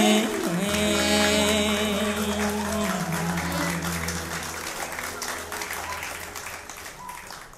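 A church congregation applauds at an Easter celebration, with sustained clapping rising as a sung worship song with accompaniment ends and fades, the clapping gradually thinning out.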